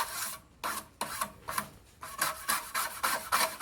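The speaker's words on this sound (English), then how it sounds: "I've got this file that's, I use it only for aluminum" A file rasps across an aluminum piano hinge in short repeated strokes, each a scratchy grinding burst separated by brief pauses, close and clear, quickening toward the end.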